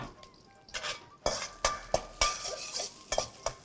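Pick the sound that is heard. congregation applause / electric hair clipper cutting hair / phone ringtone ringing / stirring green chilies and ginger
stirring green chilies and ginger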